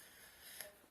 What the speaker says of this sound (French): Alors désolé si je renifle, je suis bien malade, bronchite asthmatique